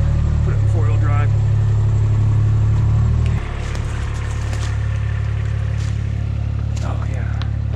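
A truck engine runs steadily and loudly while driving in four-wheel drive, its low hum shifting slightly partway through, with a person's voice heard over it.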